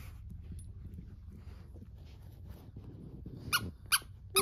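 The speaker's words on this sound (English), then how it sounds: "It's a squeaky one." A puppy's squeaky toy gives a few sharp squeaks near the end, after a stretch of low rumbling and rustling from play in a quiet room.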